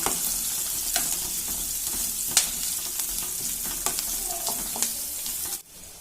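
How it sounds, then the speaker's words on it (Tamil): Chopped onions sauté in a hot pan for a chickpea sundal snack, giving a steady close sizzle with occasional stirring scrapes and a sudden drop near the end. "வெங்காயம் நல்லா வதங்கிடுச்சு."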